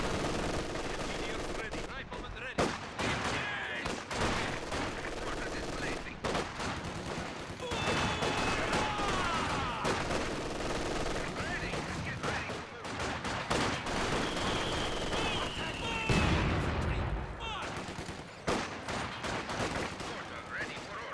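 Machine gun and rifle fire in the Company of Heroes 2 World War II strategy game, crackling in bursts with distant blasts amid continuous battle noise, with players talking over it.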